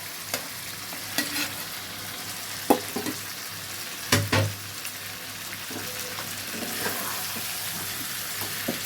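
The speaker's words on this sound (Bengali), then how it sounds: "বাকি সবজিটা এবার পুরোটাই ঢেলে দেব।" Remaining vegetables tipped into a hot pan for a mixed vegetable chachchori, sizzling steadily and close, with a few sharp clatters and scraping stirs breaking through the continuous frying hiss.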